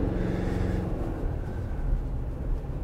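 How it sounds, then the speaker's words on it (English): A 2024 Toyota Tacoma's turbocharged engine under load while towing near its 6,400 lb maximum: a steady low drone and rumble heard from inside the cab, with a faint whine layered above it. "You can hear the turbo a lot, which is kind of fun."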